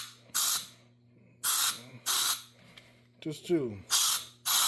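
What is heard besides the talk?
compressed air can spraying to clean motor parts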